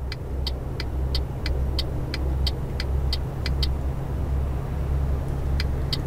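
A truck in Euro Truck Simulator 2 overtakes a car with a steady low engine drone and road noise, while a regular clicking, like an indicator, ticks through most of the pass.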